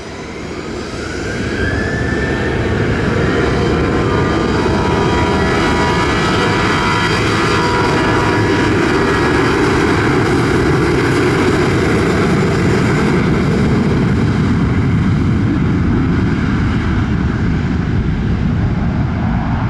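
An American Airlines jet takes off from runway 25, its engine roar swelling after a quiet start into a loud, sustained, broadband rush that holds steady for many seconds with a faint rising whine.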